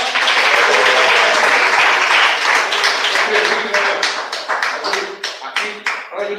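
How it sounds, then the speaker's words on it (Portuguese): A church congregation clapping during a service, loud and dense at first, then thinning into distinct individual claps toward the end, with some voices mixed in beneath. "Palmas."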